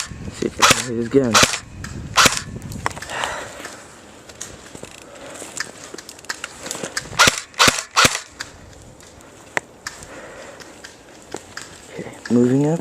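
Airsoft guns fire during an outdoor airsoft war, with sharp snapping shots in scattered bursts, some close and loud, some farther off, while a person talks in between.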